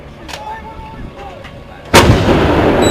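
A military artillery gun fires a single shot, a sudden loud blast with a long rumbling tail, preceded by quieter outdoor background noise.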